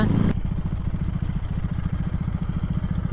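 A motorcycle engine from a KTM RC 390 or Royal Enfield Interceptor 650, filmed during a road drag-race comparison, throbs steadily and close up with an even low pulse throughout, after a brief loud rushing burst at the very start; no one speaks.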